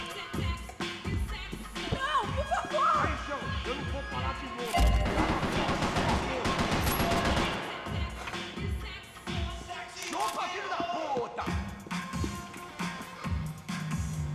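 AK rifle fire in Max Payne 3 on PC, bursts of sharp shots and crashing impacts mixed with game music and shouting voices, busy and loud throughout.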